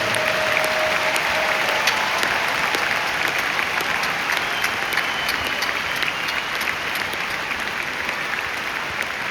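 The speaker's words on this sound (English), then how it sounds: "Let's give them a round of applause if you would" Sustained audience applause in a large hall, a dense, even roar of clapping that holds steady for the whole stretch with no voices over it.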